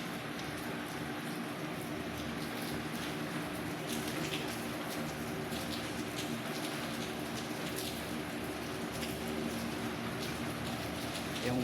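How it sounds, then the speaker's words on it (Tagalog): Steady typhoon rain pattering on surfaces, a dense continuous hiss with scattered drops, no voices, holding at an even level throughout. "Yung ulan mawala na naman, tapos babalik na naman."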